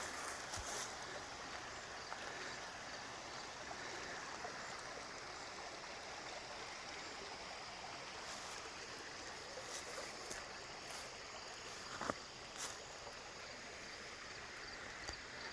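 A creek flows beside the Little Creek Salmon backcountry campsite off the North Country Trail in Allegheny National Forest, making a faint, steady rushing trickle throughout, with a few small knocks and clicks.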